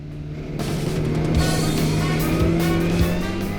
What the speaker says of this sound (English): It was Anthony's turn to drive at the start of the second race